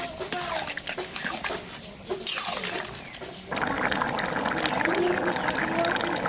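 Water is poured into a pot of cooking vegetables in a home kitchen, making a steady rushing pour and sizzle. It starts partway through and continues to the end, with room noise beforehand.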